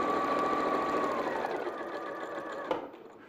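A sewing machine runs steadily as it stitches fabric for a striped bag. The close, continuous whirring hum slows slightly and then stops with a small clunk near the end.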